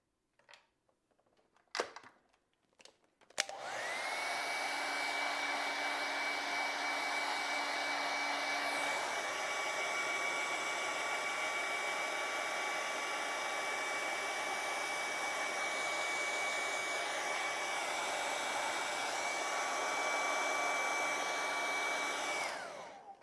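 A hair dryer runs steadily at close range for about twenty seconds, drying fresh acrylic paint on a bird painting, after a few brief clicks and knocks as it switches on; its whine shifts pitch slightly partway through before it cuts off.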